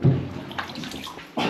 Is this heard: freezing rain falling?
no